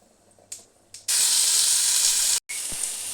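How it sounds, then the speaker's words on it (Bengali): Mustard seeds dropped into hot oil for a raw mango chutney set off a sudden loud, spitting sizzle after two small splashes. The sizzle breaks off briefly, then resumes strongly. "এর মধ্যে একটু সর্ষে দিচ্ছি"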